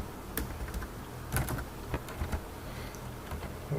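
Keys clatter on a computer keyboard in short irregular bursts of clicks, close and moderately loud over a steady room hum, with no talking.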